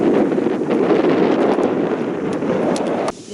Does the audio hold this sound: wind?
yes